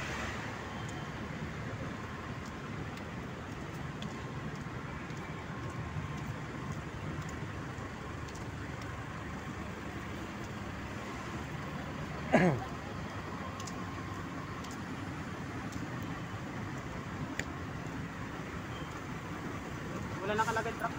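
Steady street traffic along Timog in Quezon Hub, Quezon City, heard while walking: a continuous low road rumble with passing vehicles and a brief sharp knock partway through, no talk.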